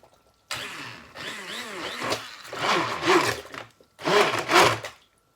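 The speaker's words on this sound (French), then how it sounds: "Je prends mon mixeur plongeur." An immersion blender purées pumpkin soup in bursts: a whining motor that rises and falls in pitch over three runs of growing loudness, separated by short pauses, close up and with no talking.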